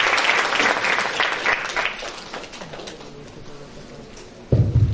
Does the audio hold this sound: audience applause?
yes